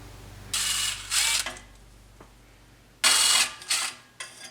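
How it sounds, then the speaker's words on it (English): Ratchet clicking as the last bolts come off the 42RE transmission pan of a 1995 Jeep Grand Cherokee ZJ, heard as two short close bursts of rapid ratcheting, then a pause, then three more bursts. "So now I have to somehow hold that with one hand and take the last two bolts out"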